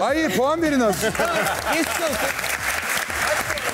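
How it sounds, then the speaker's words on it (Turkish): Studio audience on a Turkish quiz show gives consolation applause, a loud, steady wash of clapping that runs under continuous talk from the host and contestants throughout. "Teselli alkışı gönderelim arkadaşlar."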